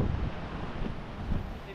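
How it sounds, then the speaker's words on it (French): Strong wind at sea aboard a racing sailboat, a steady roaring rush of wind buffeting the microphone with water noise beneath, continuous and close with no talking. "Là, le vent a basculé"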